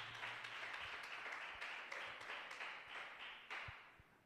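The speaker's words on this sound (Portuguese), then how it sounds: "batendo a linda salva de palmas que engrandece e que exalte ao nome do Senhor Jesus" A church congregation claps during a live worship service, a soft, steady patter with a few sharper individual claps standing out, fairly faint and distant.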